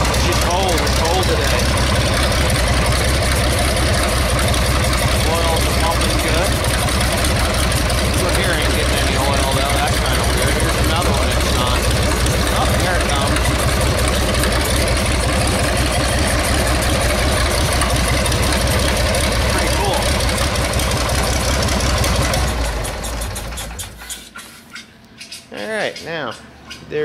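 A rebuilt John Deere 5020 tractor engine runs on a cold day, a loud, steady low rumble filling the first twenty-odd seconds before it drops off and sputters unevenly near the end.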